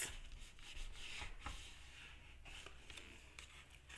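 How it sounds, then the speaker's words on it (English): Paper rubbed firmly against the edge of a table to loosen its fibres and curl it, a close, continuous scratchy rubbing with short repeated strokes, faint and alone. "rubbed it on the edge of my table"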